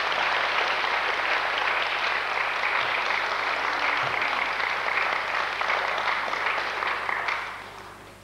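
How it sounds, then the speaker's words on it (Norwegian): A church congregation at a Zion Stavanger service applauds visiting musicians from Philadelphia Kristiansand, a full, continuous roomy clapping that holds steady for several seconds before tapering off at the end. "Vi gir dem en klapp her."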